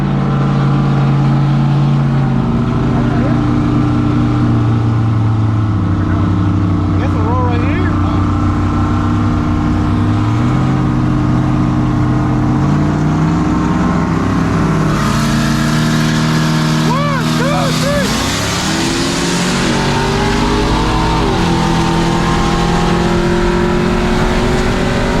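A 6.0-swapped OBS truck and a turbocharged 4.8 GMC Sierra race, their engines loud and close, droning and revving with pitch climbing through repeated gear changes, and a heavy wind roar over everything.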